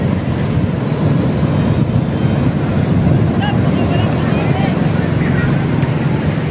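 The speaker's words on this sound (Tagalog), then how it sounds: "Darating ng bangka." A boat arrives at a seashore under strong wind buffeting the microphone, with waves and a low engine rumble making a loud, steady roar. Faint voices are heard in the background.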